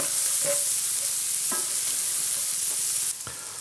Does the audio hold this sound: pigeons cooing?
no